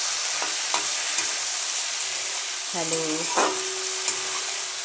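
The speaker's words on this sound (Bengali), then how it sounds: "আমার এখন চিংড়ি মাছগুলো ভাজা হচ্ছে" Shrimp fry in a pan with a continuous close sizzle and stirring scrapes; a voice speaks a brief greeting partway through, and a short tonal sound rises above the frying.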